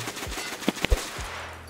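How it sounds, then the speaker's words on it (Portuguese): An MP-155 Ultima shotgun fires in the video game Escape from Tarkov, a few quick booming shots packed closely together in a brief burst. "Os tiros vão bem juntinhos."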